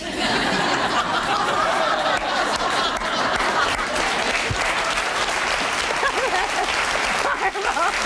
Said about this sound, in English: Why are they applauding?